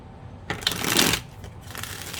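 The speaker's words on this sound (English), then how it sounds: "I think we have a very good shuffle there." A deck of cards is riffle-shuffled up close, a quick fluttering burst of flicking cards followed by softer shuffling.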